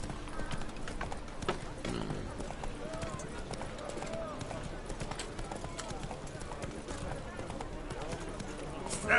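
Hooves of the horse Roach in The Witcher 3, galloping in a steady, rapid clip-clop rhythm beneath continuous background game sound, with voices speaking over it.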